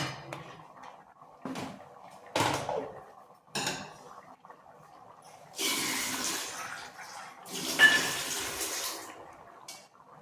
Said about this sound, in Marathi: थोडंसं टाकायचं पाणी